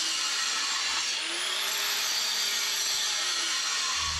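A 7-inch angle grinder grinds round metal tubing for an S-10 truck rear suspension build, giving a loud, steady high-pitched whine with a shifting scraping tone throughout.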